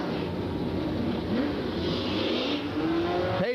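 Super stock race cars on a dirt track rumble steadily in a loud, continuous engine drone, with a few rising revs as the field rolls behind the pace car.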